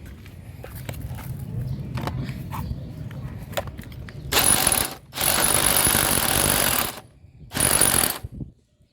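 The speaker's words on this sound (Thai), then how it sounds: "คนิคการเจาะต้องค่อยๆกดยกกดยกกดยกนะครับ" Drilling a hole with a 25 mm drill bit during a home solar panel installation: three loud bursts of power-drill whine and grinding, separated by short pauses as the drill is pressed and lifted, after quieter clicking and handling.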